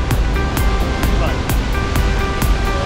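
Silver Falls waterfall at Mount Rainier pours in a steady, loud roaring rush close by, with brief sharp clicks layered over the continuous water noise.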